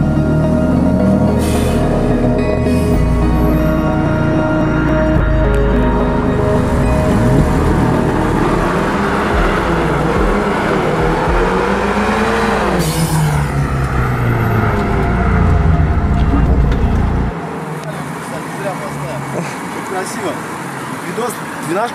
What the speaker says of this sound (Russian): Сейчас хочу попробовать на этом участке 100 км в час разогнать